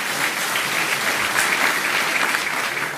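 Warm, steady crowd applause fills the space at a Greek political rally speech by Mitsotakis in Komotini, loud and continuous with no voice on top.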